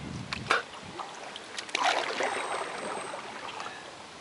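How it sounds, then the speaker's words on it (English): Paddles dip and pull through lake water beside a homemade plywood canoe on its first float test, giving a few soft splashes and a trickling wash, fairly quiet and close. "It's hard to paddle with fucking crappy extra plywood pieces"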